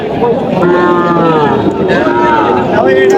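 Several cattle, young heifer calves, moo loudly and close by at a cattle market, their calls overlapping in long drawn-out lows against a busy background.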